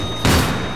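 A single loud, close gunshot booms in the game Battlefield 3, striking sharply and then fading into a short rumbling tail.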